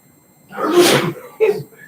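A single close, loud sneeze bursts out sharply, followed by a brief voiced sound just after.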